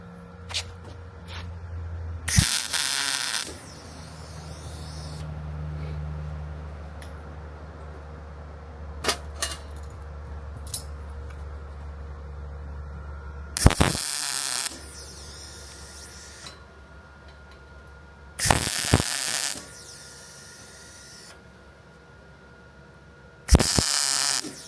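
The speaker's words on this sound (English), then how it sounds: "So we took a piece of welding rod, cleaned the flux off, and we're gonna tack it into place." Short bursts of tack welding fix a flux-cleaned piece of welding rod in place on a 1959 Studebaker build: four separate broadband crackling bursts, each about a second long, spaced out over a low steady background hum, fairly close.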